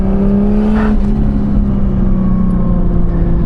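Toyota Cressida with a single-turbo 1JZ engine droning steadily under load while drifting, a loud continuous engine note holding a fairly even pitch with a brief rise near the start, no talking.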